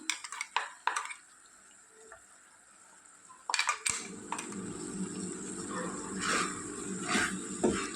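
Spice powder being stirred into a broad bean curry in a metal pan, with scraping and clinking of a spoon against the pan, some sharp knocks early and a steady soft rustle of stirring later, faint sizzling underneath.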